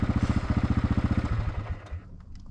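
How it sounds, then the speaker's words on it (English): A four-wheeler ATV engine pulls the bed off an old Ford truck, chugging in a fast, regular rhythm close by for about a second and a half before it slows and cuts out. "I'm gonna pull this back with a four-wheeler and hope it don't kill me"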